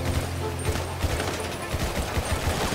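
Rapid bursts of gunfire from a GTA 5 zombie survival session, repeated shots and volleys at a steady loud level throughout, with a voice speaking briefly among them.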